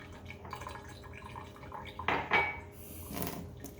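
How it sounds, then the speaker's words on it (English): A towel is wetted with water at a kitchen sink for cleaning tarnished silver, with a few short, close splashes of water and soft drips at fairly low volume. "So I'm just going to wet my towel ever so slightly."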